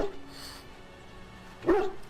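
The large dog companion in Dragon Age: Origins gives a short bark or whimper near the end, heard over faint game ambience.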